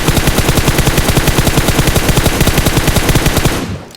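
Sustained automatic gunfire in the PUBG video game, a loud, rapid, evenly spaced burst of shots lasting about three and a half seconds before cutting off abruptly.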